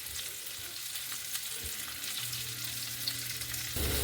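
Venison sears in a frying pan with a constant quiet sizzle and a few faint clicks, and a low hum sits beneath it throughout.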